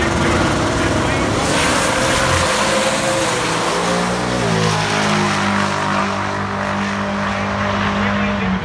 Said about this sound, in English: 118-kilometer turbo on the standard 93 cubic inch small block for Nick Duda.